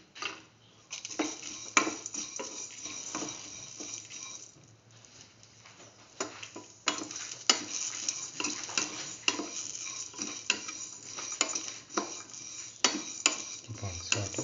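Garlic sautéing in a pan for a soy chunk tortilla wrap: a soft sizzle under repeated metallic scrapes and taps of a spatula, at an uneven but frequent rhythm, close by, pausing briefly midway before resuming; no talking.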